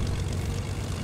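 An airplane in the Fortnite video game gives a steady, low propeller-engine drone that holds level and close for about a second, with no voices.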